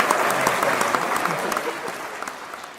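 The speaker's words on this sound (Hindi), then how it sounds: "यार ताली कमजोर हो रही है आपकी थोड़ी" Audience applause at a Hindi kavi sammelan poetry gathering, a steady, moderately loud wash of many hands clapping that tapers slightly toward the end, with no talk over it.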